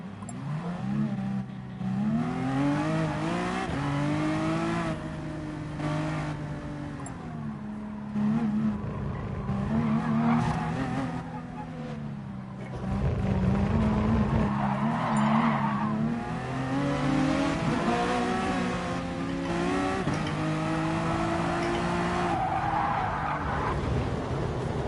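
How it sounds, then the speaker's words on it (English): Race car engine revving steadily through a warm-up lap in GT Sport, with tire skids and squeals rising over the continuous engine drone, loud and close throughout. "I'll go ahead and do a warm-up lap"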